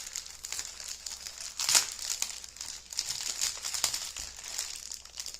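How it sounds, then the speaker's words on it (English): Plastic bags crinkle and rustle up close as they are opened, the crackling rising and falling in busy bursts with one louder crunch near the start. "Are you enjoying me just open plastic bags?"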